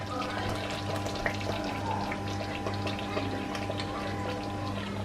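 Water being poured into a pan of chicken and mushroom pie filling, a steady running stream with a constant low hum underneath, moderately loud and unbroken throughout.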